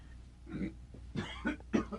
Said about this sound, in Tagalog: Tingnan nyo, inuubo na nga.